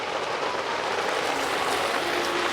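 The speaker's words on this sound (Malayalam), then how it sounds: "പയ്യെ മഴയും തുടങ്ങിയിട്ടുണ്ട് ഇവിടെ" Light northeast-monsoon rain falls outdoors beside a wood-fired cooking hearth, a steady, even hiss of drops with no break or voices across the whole stretch.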